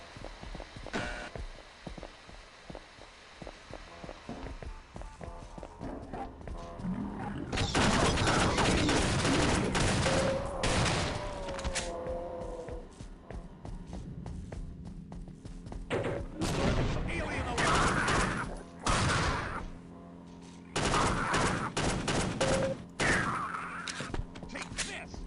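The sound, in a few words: Glock pistol burst fire in Half-Life mod video game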